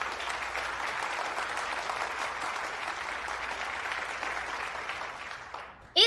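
A studio audience applauds in a Hindi-dubbed Chinese drama, a steady, dense wash of clapping that holds for about six seconds before fading and cutting off abruptly.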